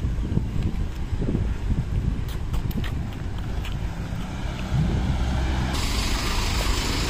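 Traffic near a highway rumbles steadily in the background, a low continuous drone of passing vehicles mixed with gusts of wind noise on the microphone, with no talking.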